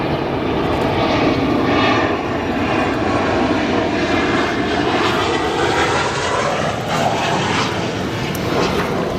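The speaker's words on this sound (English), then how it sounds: "Have our next arrival, United Airlines 737." United Airlines Boeing 737 arriving, a steady loud engine roar that swells and holds throughout, heard from a distance.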